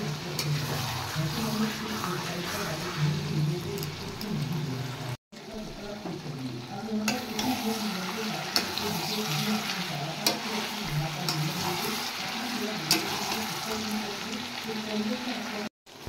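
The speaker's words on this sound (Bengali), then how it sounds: "মটনটা কষে গেছে, আর একটু কষিয়ে নেব" Mutton stir-frying for tehari biryani, a steady low sizzle and scraping under continuous background hiss, with a brief dropout near five seconds; a voice murmurs faintly throughout.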